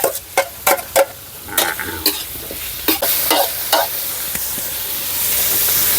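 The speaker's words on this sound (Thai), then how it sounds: "ครับปลาไหลอันดับแรกเขามาผัดเครื่องแกงก่อนครับ พัดเครื่องแกงให้หอมๆ แล้วก็ตามด้วยเนื้อปลาไหลครับผม" Eel pieces and curry paste being stir-fried in a hot pan: repeated scraping stir strokes over a steady sizzle that swells into a continuous loud hiss toward the end, with no talking.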